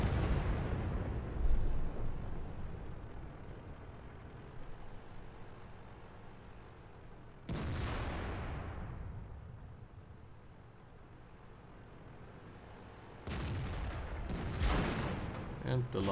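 Tank cannon shots from World of Tanks on the Himmelsdorf map, three heavy booming blasts spaced several seconds apart, each trailing off into a rumbling decay over a low background.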